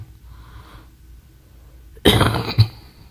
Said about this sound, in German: Ich habe nur so einen ekligen Husten